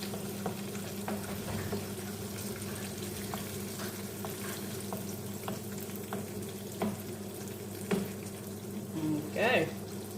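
Milkfish (bangus) frying in oil in a pan for a Filipino breakfast, a steady close sizzle with scattered crackles and pops, a few clinks of a utensil as the fish is turned.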